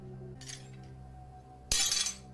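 Glass breaks twice: a short crack and tinkle first, then a louder, bright shattering crash with scattering shards that rings out briefly, against quiet room tone.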